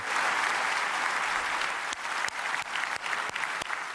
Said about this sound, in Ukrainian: якого зал вітав оваціями